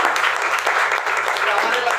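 Loud applause from a crowd at a presentation, a dense, steady wash of clapping that holds for about two seconds.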